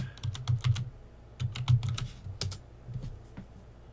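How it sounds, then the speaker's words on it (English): A computer keyboard is typed on in short irregular bursts of quiet, close key clicks, with brief pauses between the runs. "if I can type"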